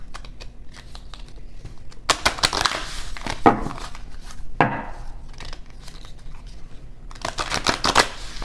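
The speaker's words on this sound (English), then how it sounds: "Three shuffles and a cut." Several bursts of riffling card shuffles, crisp papery flutters in close succession with quiet gaps between, recorded up close.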